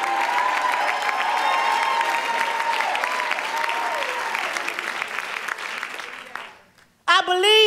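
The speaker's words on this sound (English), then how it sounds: "clap your hands, shout with the voice of triumph." Conference audience at a women's church gathering clapping and shouting, sustained dense applause with cheering voices for several seconds, fading out before a brief burst of voices returns at the end.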